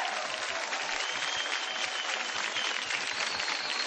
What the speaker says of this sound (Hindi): जोरदार तालियां फॉर बोथ ऑफ देम.